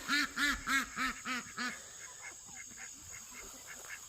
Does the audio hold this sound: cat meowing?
no